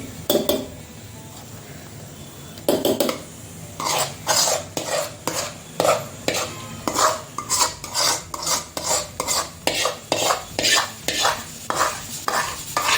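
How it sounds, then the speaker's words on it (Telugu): Green chillies and gongura leaves are stirred in a bowl, giving a steady rhythm of scraping, rasping strokes with brief clinks against the bowl, close and fairly loud, with no talking. "మిర్చి గిన్నెలో ఒక తిప్పు తిప్పుకుంటే అయిపోయండి బాగా మెరిగిపోతుంది"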